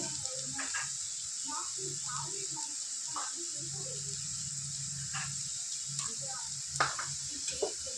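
Onions seasoned with salt and chili powder fry in a pan, with a faint, steady sizzle and occasional stirring scrapes heard up close under a voice talking.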